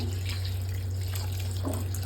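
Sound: cold water poured over drained vermicelli

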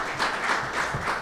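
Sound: audience applause

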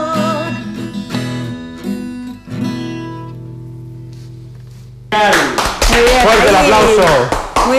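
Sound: audience applause

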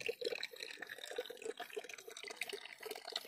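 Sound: overflow water from a water tank running into a trough

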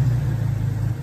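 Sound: 2020 Toyota Tacoma TRD Pro engine starting via keyless push-button

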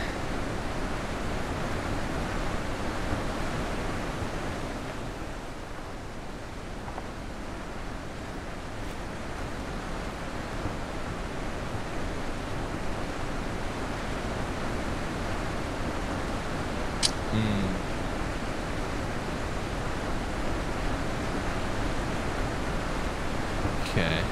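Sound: waterfall in the video game The Witness

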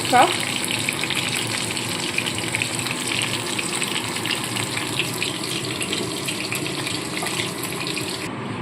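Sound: cumin seeds sizzling in hot oil

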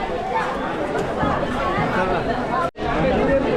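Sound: crowded temple queue, crowd chatter at Bhimashankar

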